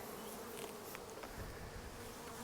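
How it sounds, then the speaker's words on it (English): Honey bees buzz densely inside an opened hive that was the keeper's strongest colony, a steady close-up hum with no voices. "there's bees everywhere in there"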